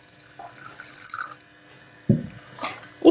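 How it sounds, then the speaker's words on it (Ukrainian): Hot milk poured in small portions into a pan of caramel with butter, heard as a few short, close liquid splashes and dribbles separated by quieter pauses, with no talking. "Тепер частинками вливаємо гаряче молоко."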